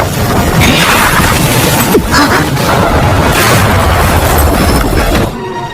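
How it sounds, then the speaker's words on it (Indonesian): A ki energy explosion roars as a sustained, loud, broadband blast with rumbling and crackling bursts, holding for several seconds before cutting off abruptly. "menciptakan ledakan ki yang bisa dirasakan oleh orang-orang yang berada di luar air terjun"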